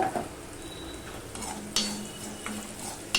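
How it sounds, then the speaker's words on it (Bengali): Leftover rice stir-fried with browned onions over a medium flame makes a soft, steady sizzle, punctuated by a few sharp spoon scrapes and clinks against the pan, with no talking. "এবারে যে ভাতটা আমি নিয়েছি সেই ভাতটা আমি দিয়ে দেব"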